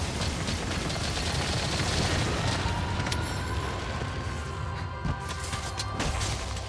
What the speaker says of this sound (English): machine gun. Here we go.